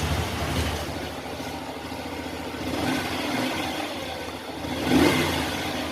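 A Honda Revo Absolute motorcycle engine, troubled by weak idle and poor starting, runs with a steady mid-pitched drone and small surges of throttle, close and fairly loud with no voices.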